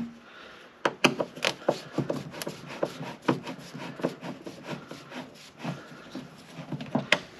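Screws are worked out of the rock guard mounting on a Honda Civic Type R, giving a close series of quick scraping, rubbing clicks in an uneven rhythm with brief pauses between turns.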